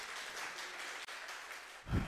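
A church congregation applauds during a Swahili sermon, a sustained, fairly distant patter of many hands clapping that carries on steadily, with a low thump near the end.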